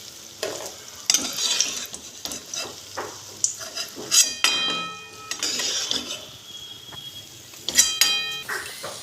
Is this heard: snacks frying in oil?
yes